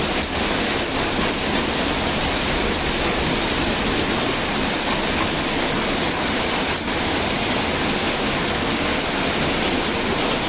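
Heavy rain pours steadily outside a house, a dense, loud, unbroken hiss of falling water with no pauses and no voices.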